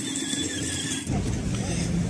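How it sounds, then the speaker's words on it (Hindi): Busy road traffic close by, with a steady roar of passing vehicles, a thin squealing whine at first, then a louder rush of engines and tires as a car passes. "ट्रैफिक हो गई है"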